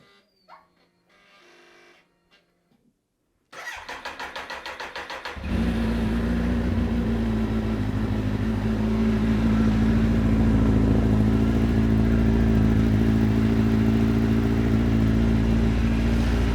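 A Kawasaki Z1000 with an Akrapovic exhaust fitted with dB killers cranks with a rapid starter whir, catches, then settles into a loud, steady, throaty idle that drones on.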